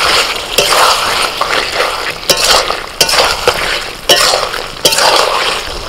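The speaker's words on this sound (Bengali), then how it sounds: "5 মিনিট পর ঢাকা খুলে একটু নাড়াচাড়া করে দিচ্ছি।" A spoon stirs chicken curry in an uncovered pan, loud and close, with sizzling oil beneath and repeated sharp clinks of utensil against metal.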